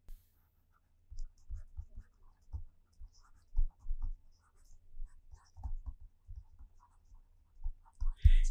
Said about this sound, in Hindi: अब हम यहाँ पे जो नेक्स्ट हेडिंग लिखेंगे वो नेक्स्ट हेडिंग होगी मैथमेटिकल डिस्कशन की।